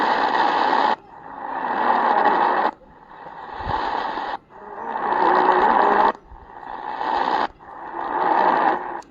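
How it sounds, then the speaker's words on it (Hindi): A QODOSEN DX-286 radio hisses and buzzes in loud bursts while tuning to AM 711, the signal cutting out briefly between them, with no one speaking. "711 पे जब ट्यून करेंगे तो पहले आवाज़ एक दबेगी, फिर आवाज़ ऊपर आएगी।"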